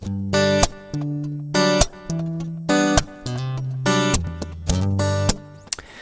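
Plucked guitar chords ring out one after another with a bright, hollow, acoustic-like tone from a Zoom MS-50G multistomp pedal's acoustic simulator effect, steady strumming rhythm and no voices.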